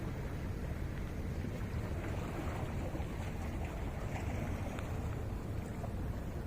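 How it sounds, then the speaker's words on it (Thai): Sea waves wash and surge steadily along the shore at night near a large ship, forming a continuous low, rumbling roar with windy hiss, fairly faint and without voices. "เสียงคลื่นซัดสาด"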